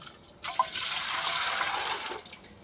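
Water is lifted and poured into a cooking pot, a steady splashing pour that starts with a small splash, runs evenly for about a second and a half, then tapers off, close and fairly loud with no talking.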